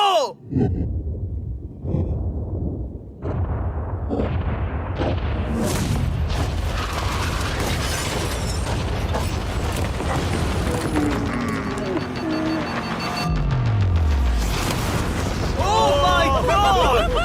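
A boat-wrecking stunt for a yacht ends in a heavy explosion, with rumbling debris and roaring noise that fill the whole stretch, and a falling whistle-like tone near the end.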